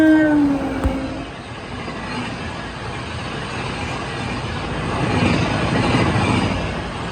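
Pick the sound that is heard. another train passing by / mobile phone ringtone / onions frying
another train passing by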